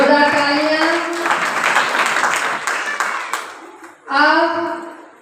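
An audience at a devotional Bhaktamar class claps in a burst of applause lasting about two seconds, with a voice speaking before and after it.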